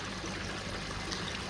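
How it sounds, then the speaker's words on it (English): Water trickling steadily from a spray bar down through a bakki shower filter tower holding filter media, a continuous soft hiss of falling water. "we have a spray bar that is basically pushing water through the top"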